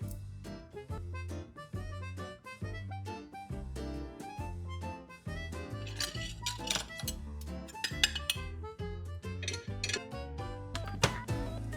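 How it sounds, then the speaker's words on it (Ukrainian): Dishes, glasses and cutlery clinking over and over as they are stacked into a dishwasher after a big holiday meal is cooked, with sharp bright knocks over a steady musical background and no talk. "поклали до посудомийної машини самат, і у вас буде все чисто"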